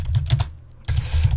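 Quick bursts of typing on a computer keyboard, close and distinct, with a short pause between two runs of keystrokes.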